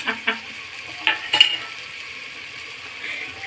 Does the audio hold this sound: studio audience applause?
no